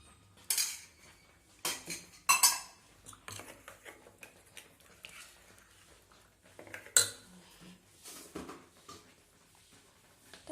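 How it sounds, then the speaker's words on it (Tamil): A spoon stirs curd into cooked pearl millet for a summer porridge, giving scattered clinks and scrapes against the vessel in irregular bursts, close and fairly quiet. "தயிர் ஆட் பண்ணி நல்லா மிக்ஸ் பண்ணிக்கலாம்"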